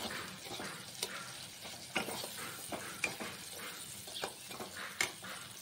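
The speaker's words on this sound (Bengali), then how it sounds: "পেঁয়াজটা ভাজা হতেই দিয়ে দিলাম টমেটো" Onion and tomato frying in a pan with ginger, cumin and green chili, a soft sizzle broken by repeated scraping stirs, about five distinct strokes, close but quiet.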